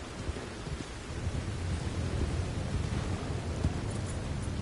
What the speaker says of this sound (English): Oh man, imagine walking home in this rain.